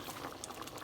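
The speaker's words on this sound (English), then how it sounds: "Okay, so it is boiling now." A pot of water with bacon and salsa boiling on a stove before lentils go in, giving a faint, continuous bubbling and gentle patter, close by and quiet.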